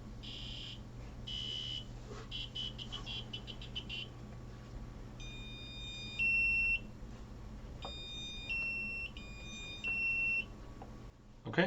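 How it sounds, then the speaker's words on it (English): A buzzer on a robot board runs a test program, sounding short high electronic beeps in irregular groups over a steady low hum and background noise. "I might have downloaded the buzzer test program to this at some point"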